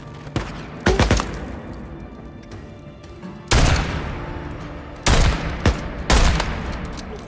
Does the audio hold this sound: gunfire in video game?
yes